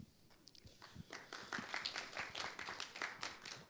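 An audience claps at a Gauteng liquor stakeholder forum, with scattered, uneven hand claps that are fairly faint and quiet in the room, and no voices over them.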